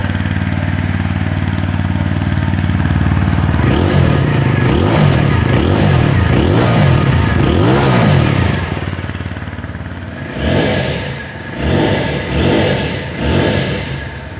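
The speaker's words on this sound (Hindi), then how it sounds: "इसका जो एग्जॉस्ट नोट है वो भी मैं आप लोगों को एक बार सुना देता हूँ।" A TVS Apache 160 4V motorcycle idles steadily, then its exhaust note rises and falls through a series of quick throttle revs, dropping back toward idle before a few final blips, loud and close.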